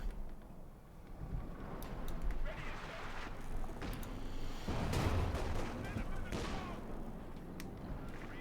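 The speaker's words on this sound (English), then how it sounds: "That's a pretty good Stukas barrage here from Evsik." Stuka barrage artillery in the video game Company of Heroes 2, rumbling blasts and crackling explosions that swell in bursts over several seconds beneath a dense battle din, with a commentator talking over it.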